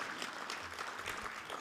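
Audience applause at a local community event, a brief, faint spell of scattered clapping heard from some distance.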